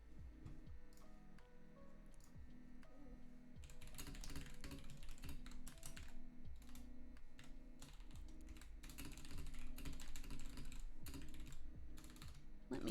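Fast, continuous typing on a British computer keyboard, with close, crisp key clicks in uneven bursts that grow denser and louder partway through.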